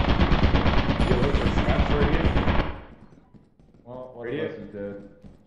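Turret in Lethal Company firing a rapid, loud machine-gun stream for about three seconds before cutting off, then a voice speaking briefly afterward.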